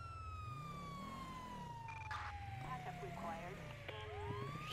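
Police car siren from the video game GTA wails in steady rising and falling sweeps throughout, loud and continuous, with a voice talking over it.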